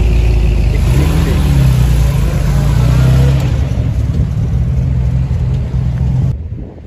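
A Porsche 911 with an open, unmuffled exhaust revs hard at a car-spotting meet, a loud, raw roar that climbs and holds for several seconds before cutting off abruptly near the end.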